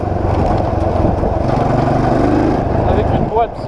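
A 350cc quad with a six-speed gearbox, a replica of the GTA V Blazer Street, runs with a steady loud engine drone throughout, briefly dipping near the end, with people talking over it.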